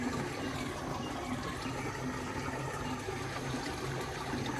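Water drains out of an emptied water tank in a steady, continuous rush and gurgle that stays at an even level from start to finish.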